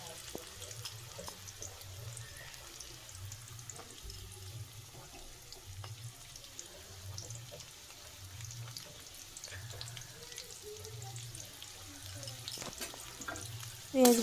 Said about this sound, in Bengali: পেঁয়াজকে চলুন বেশ একটু ভালো করে ভাজা ভাজা করে নিই।